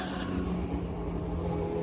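A classic car engine droning on a Le Mans Classic practice day, a steady far-off hum with faint revving, no talk.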